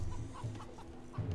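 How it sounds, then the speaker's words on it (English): Chickens cluck in an Age of Empires-style strategy game, a few short clucks coming and going over a low, steady game-sound background. "So we got chickens in the back for Corleone."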